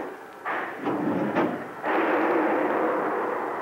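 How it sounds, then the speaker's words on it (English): A submarine torpedo tube fires in a 1978 war film, a heavy low thump and rush of air followed by a loud, sustained hissing roar that fills the space. "Tube 1 fired electrically."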